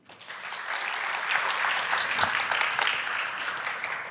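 A room full of people applauding at a festival opening, the clapping swelling quickly from quiet to a full, steady patter and holding there before easing off slightly.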